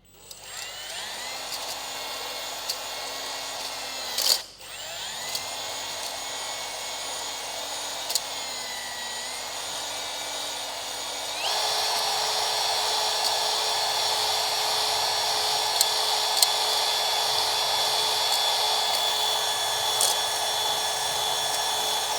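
Drill-driven cylinder hone cutting through crud in the cylinders of a seized Caterpillar road grader engine, heard as a close, steady whining drone with brief stops and clunks, then a louder, harsher grinding whir for the rest.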